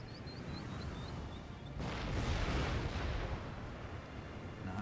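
Artillery cannons firing in the video game Empire Total War, a low rumbling barrage that swells and lingers after a brief whistling intro, then fades slowly.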